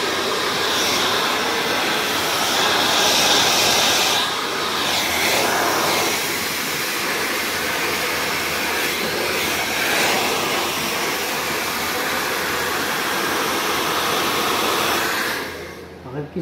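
A hair dryer blow-drying hair during round-brush curl styling at a hair and makeup academy, a loud continuous close-up roar that shifts slightly in tone as it moves, then cuts off near the end.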